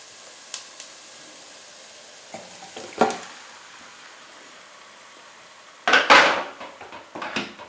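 Home-grown tomatoes tip into a pot of simmering ketchup, giving a soft clatter and a louder burst of splashing and scraping near the end, with light clinks and stirring earlier over a quiet background.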